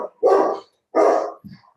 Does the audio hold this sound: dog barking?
yes